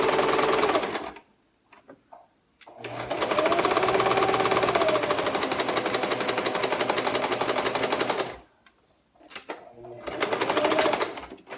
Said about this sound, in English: hitting that second seam, just gonna go a little slower. I'm sewing super fast just to get through this